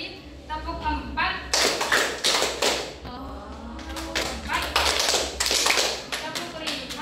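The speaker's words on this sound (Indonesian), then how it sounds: "Kalau ibu bilang tepuk 1, kalian tepuk 1 kali" A group of children clap in short bursts of counted claps, pausing between sets as an adult voice speaks in between.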